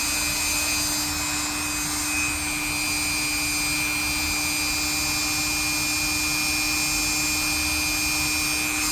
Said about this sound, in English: I'm just using some rubbing compound here to start getting it clean.